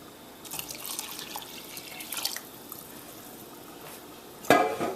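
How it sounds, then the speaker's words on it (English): Water pours and trickles into a pot of rice and peas, soft splashing and drips close by, with a louder splash near the end and no talk. "And now we're going to top it up with water."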